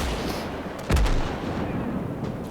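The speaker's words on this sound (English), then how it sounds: "So yeah, artillery duels." A heavy artillery blast in the World War II strategy game Gates of Hell lands as a single deep boom in the middle, over a constant rumbling battlefield background with no voices.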